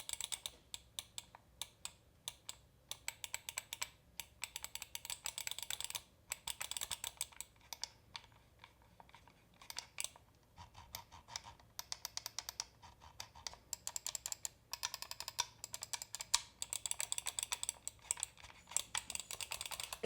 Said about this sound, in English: It sounds like a mouse, right?